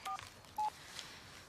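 A telephone number is dialed with two short, faint keypad tone beeps, separated by a brief pause, in an otherwise quiet room.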